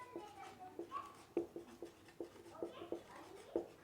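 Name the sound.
writing on a board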